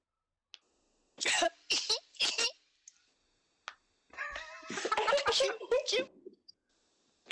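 A voice imitates a small, cute anime-style cough: four quick, breathy bursts close to the mic, followed by a stretch of talking.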